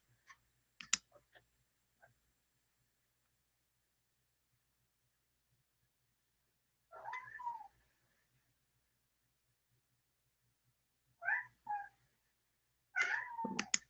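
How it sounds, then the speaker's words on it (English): A house cat meows for attention, giving a few short calls spread apart with long quiet gaps between them, close by, along with some faint clicks at the start. "He would stand right here and start meowing at me because he wants attention."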